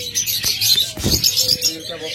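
Caged pet lovebirds, budgerigars and cockatiels chirping in a shop, a busy overlapping chatter of high tweets and calls, close and loud.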